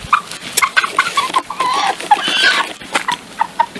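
Chickens and a rooster on a summer homestead, about twenty birds together in a pen, cluck close by in quick, irregular bursts. Their calls overlap and rise into a louder squawking stretch midway, with no talking.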